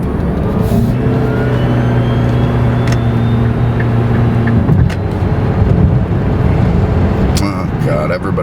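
A Karma Revero in sport mode accelerating hard, a steady electric-motor whine holding level for several seconds over loud road and cabin rumble, then dropping away into noisy driving sound.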